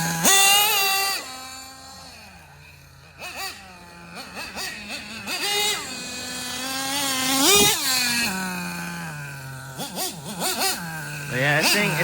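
A nitro engine in an HPI Savage 21 RC car, with an Alpha 28 engine and a loud pipe, buzzes loudly and continuously, its pitch rising and falling as the throttle blips up and down.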